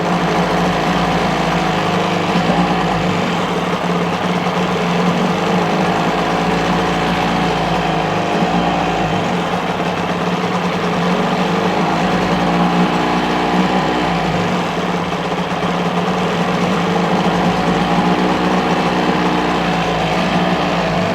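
A 1977 Johnson 9.9 hp Seahorse outboard motor runs on what remains in its carburetor, a loud, steady, buzzing idle that continues unbroken for over twenty seconds, close up and with no voices.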